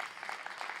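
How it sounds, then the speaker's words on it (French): Short patch of audience applause during a talk on agile teams, soft and somewhat distant, with scattered hand claps forming a light rhythm. "on peut l'applaudir"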